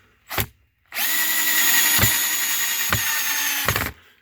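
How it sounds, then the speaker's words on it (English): Power drill driving long screws into a board while sealing a crawlspace window well, a short burst followed by a sustained whirring run of about three seconds with brief load dips, close and loud, no talk. "And then drilling it in."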